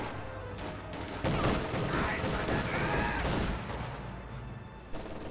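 Rifle and grenadier gunfire in a World War II-era video game battle, a dense, continuous mix of shots, pops and explosions over a rumbling background, close and loud throughout the short stretch.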